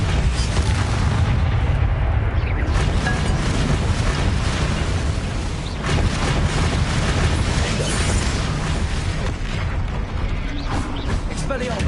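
Spell combat in a Hogwarts video game with the Expelliarmus spell being cast, heard as a dense, continuous wash of loud magical bursts and booming impacts that run for the whole stretch, with a voice faintly mixed in.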